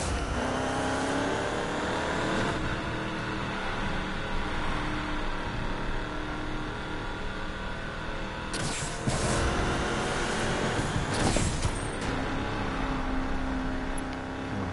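Race car engines in Need for Speed Payback at Lakeside, a steady roaring drone with shifting engine tones, loud and sustained, with a couple of brief noisy surges as cars blast close by.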